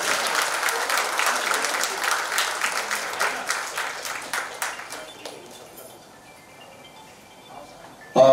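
Students and teachers at a school annual gathering break into loud, dense applause that holds steady for about five seconds, then thins and fades to near quiet.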